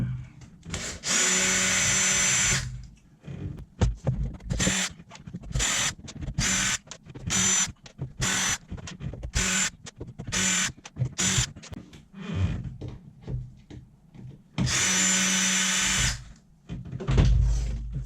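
A power drill drives Torx and Phillips screws into a helm in repeated loud, close whirring bursts, with longer sustained runs at the start and end and shorter choppy pulses between them.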